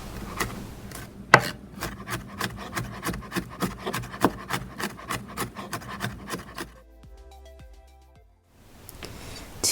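A knife chops a head of garlic into small pieces on a cutting board, with quick, steady, close taps running for about seven seconds before a short pause and one final knock.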